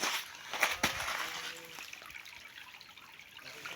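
Clear water trickles and drips inside a cave with stalactites in Bulacan, a soft, faint, continuous flow with a few sharper drips early on.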